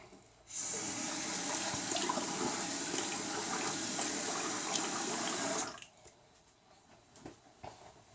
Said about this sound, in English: So let me rinse, be right back.